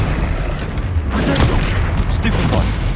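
The Expelliarmus spell is cast in Hogwarts Legacy, a burst of booming, crackling magic effects over loud combat noise, with a voice shouting during it.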